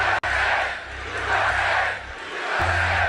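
Crowd of supporters at a Trump rally in Butler, a large outdoor gathering producing a steady loud roar of voices and cheering, with a brief cut partway through.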